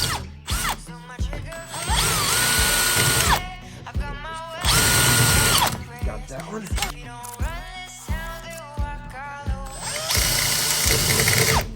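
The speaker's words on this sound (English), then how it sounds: "going to start drilling these little rivets out so we can get the brake line off" Power drill boring out small rivets holding a brake line on the upper A-arm of a 2018 Polaris Ranger XP1000 UTV, in repeated loud whining bursts with pauses and clanking between, someone briefly speaking.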